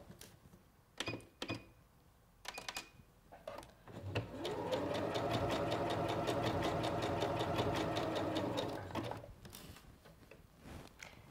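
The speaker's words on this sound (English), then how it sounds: "I'm gonna take this first pin out, and I'm gonna start sewing" A Singer Professional 9100 sewing machine stitches a skirt hem, a steady close mechanical whir that runs for several seconds before slowing to a stop, with a few faint clicks before and after.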